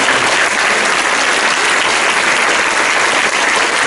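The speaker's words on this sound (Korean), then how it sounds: "우리 큰 박수로 환영하시고" A crowd at a church celebration in Incheon claps loudly to welcome guests, a thick, even wash of many hands sustained without pause and close at hand.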